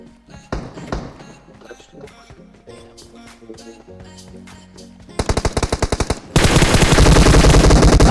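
Rapid bursts of video game gunfire, scattered shots at first then sustained loud automatic fire toward the end, with footsteps and clatter between.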